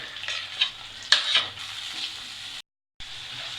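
Garlic and tomato sautéing in a pan for a village-style Tamil fish curry, a steady sizzle broken by a few louder scraping stirs, then a brief silent gap before the frying resumes.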